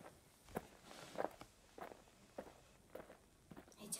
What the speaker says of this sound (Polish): No kroki, nie słyszycie tego?